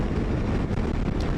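Wind buffeting a rider on a Sym Joymax Z 300 scooter at speed; a continuous low roar and rumble of gusting air against the microphone, loud and close, with no speech.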